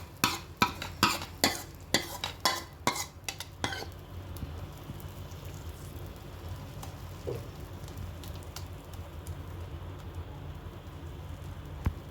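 Oats omelette batter poured onto a hot dosa pan, a run of sharp clatters and splashes in the first four seconds giving way to a steady, soft sizzle that carries on alone to the end.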